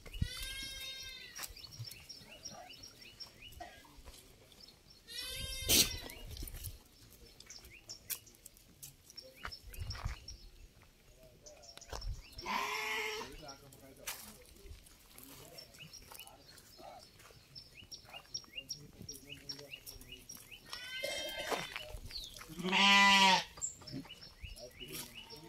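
Bandur sheep in a flock bleat at intervals, several separate calls near and farther off over a quiet outdoor background, with some low murmuring and occasional bird sounds between bleats.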